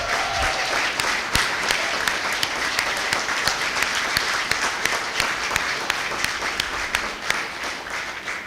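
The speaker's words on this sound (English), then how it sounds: "Let us clap for you." Applause fills a board of education meeting room as parents are recognized, a sustained crowd clapping with sharp individual claps standing out, steady from start to finish.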